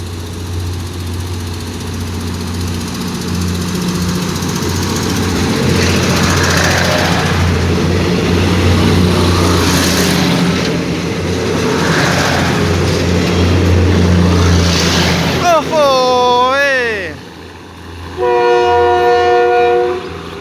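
A diesel railcar pulls out of Salaya railway station, its engine revving in a loud, throbbing drone that swells and rises, then blasts its horn in two sharp, wavering tones near the end.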